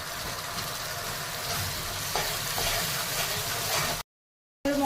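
Green chili, garlic and ginger paste frying with onions in a pan for Bengali mutton curry, a soft, steady sizzle with a couple of faint stirring knocks, cut off by a brief silence near the end.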